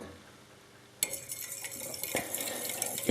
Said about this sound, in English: you want to mix in the egg